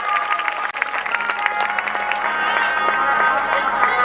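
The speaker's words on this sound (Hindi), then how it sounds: "इनके लिए मीठी मीठी तालियां बजा दीजिए।" Listeners at a Bhagavat katha religious discourse clap together in a continuous wash of applause, fairly close and even, with a murmur of voices and a thin hum underneath.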